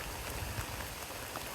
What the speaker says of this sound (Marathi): पाऊस पण मस्त लागायला लागलाय.